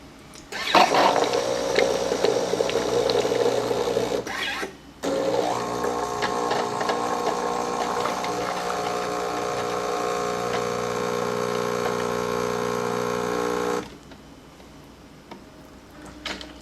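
A Jura Capresso J9 coffee machine brews coffee with a steady mechanical hum and buzz, loud and close, pausing briefly before resuming and then cutting off, with only faint background noise afterward.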